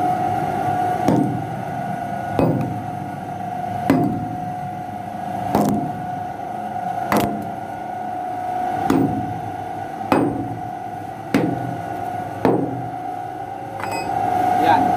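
Heavy hammer blows strike at a slow, uneven pace, about ten in all, over a constant humming drone.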